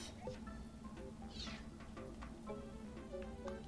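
The cat-like cry of Meowth in the video game Pokemon Snap, a clear meow heard over steady game music and sound effects.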